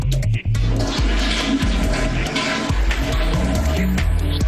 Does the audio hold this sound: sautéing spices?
no